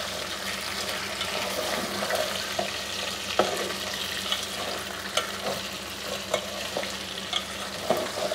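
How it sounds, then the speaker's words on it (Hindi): Potato slices for Pakistani aloo katli sizzle steadily in oil in a pan, with a spatula scraping and clacking through them in intermittent strokes, close and moderately loud, with no voices. "हमारे जो आलू हैं वो हल्के हल्के से आप देख सकते हैं हो गए हैं फ्राई।"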